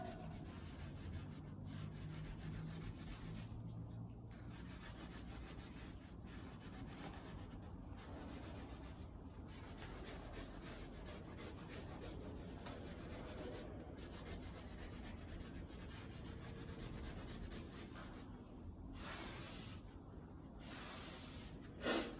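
A rubber eraser scrubs out pencil lines on a hand-drawn decorative design layout, giving a steady, close, dry rubbing friction that runs continuously with small pauses and no talking.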